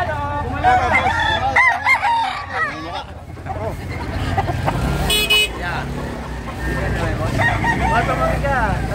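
A native rooster in Baliwag, Bulacan crows loudly at close range over steady background noise and passing traffic, with a short high toot partway through.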